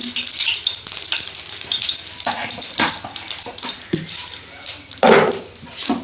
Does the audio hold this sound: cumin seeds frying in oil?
yes